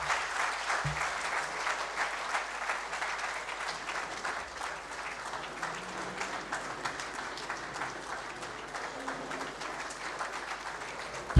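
Sustained applause from a seminar audience at an international trade conference, steady dense clapping filling the hall for several seconds without a break.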